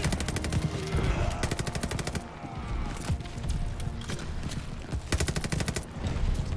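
Rapid automatic gunfire from Call of Duty: Vanguard, with dense machine-gun bursts near the start and again toward the end, separated by scattered single shots over a constant loud battle din.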